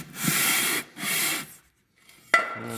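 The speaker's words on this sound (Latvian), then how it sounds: "Un slīpējam, kamēr virsma pilnībā ir spīdīga." Two steady rasping strokes come as a deformed aluminium piece is rubbed across a sheet of sandpaper fixed to a flat table, followed by a pause and a brief clack.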